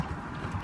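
A horse moving on a shady spot at the end of a ride, with soft, close hoof clip-clops and low shuffling over a dull outdoor background, no talking.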